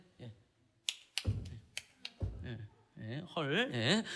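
A single person gives a short demonstration of North Korean style mass applause: a handful of sharp, close claps in an uneven burst, then a voice speaking.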